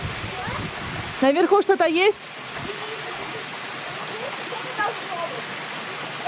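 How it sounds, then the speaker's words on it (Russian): A small mountain waterfall near Lake Panagia in Crimea makes a steady rushing wash of water throughout, with a person speaking briefly over it early on. "Вот сверху водопад такой течет"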